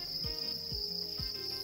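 Crickets at a cricket farm in Madagascar chirp with a steady, high, continuous trill, close and loud, with a few low thuds in the background.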